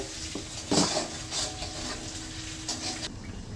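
A metal wok clanks down onto a stove for cooking hilsa fish with mustard, followed by a few scattered knocks and scrapes of cookware in a quiet kitchen.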